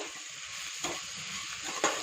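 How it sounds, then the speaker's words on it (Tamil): Potatoes frying with masala in a pan for a butter beans kuzhambu, a steady close sizzle with two brief louder stirring scrapes, no talk. "இதோட உருளைக்கிழங்கையும் போட்டுக்கோங்க"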